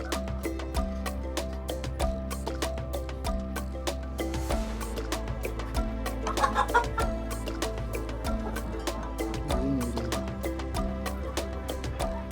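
Local chickens in a commercial chicken coop cluck in a busy, overlapping chorus, with a steady low hum and frequent sharp clicks or ticks running through the scene.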